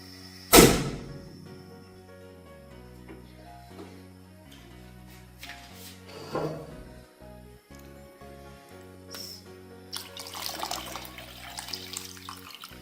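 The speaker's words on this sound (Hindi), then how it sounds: "डेढ़ लीटर पानी डाला मैंने इसके अंदर।" Water is poured into a kadai (wok-style cooking pan) with soaked dried plums for chutney, starting with a sharp splash, then a running, gurgling pour with some metallic clinks, close and moderately loud, with background music underneath.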